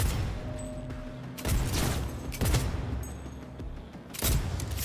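Bursts of gunfire and explosive booms in the video game Cyberpunk 2077, several loud volleys in quick succession with rumbling tails.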